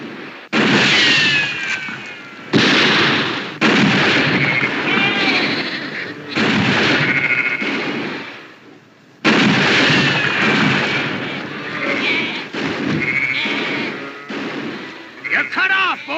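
Gunfire in a western shootout, with sharp, loud reports repeating in bursts across the scene as voices speak between and over the shots.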